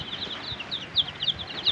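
Native chicken chicks chirp inside a brooder: faint, high, repeated peeping calls in quick irregular bursts over a quiet background hiss.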